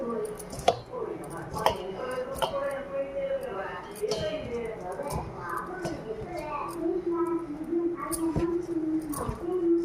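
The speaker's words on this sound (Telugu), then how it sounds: "కలుపుకున్నాక మొత్తం కలిసినట్టు కలుపుకోవాలండి." Soft, wet squishing and occasional clinks come from hands mixing millet dough with baking soda and salt in a bowl for sweet fritters, under steady talk from a woman nearby.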